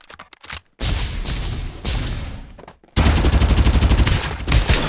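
Gunfire in the video game Farlight 84: a few short separate shots, then two long sustained bursts of rapid automatic fire, loud and close, broken by a brief gap.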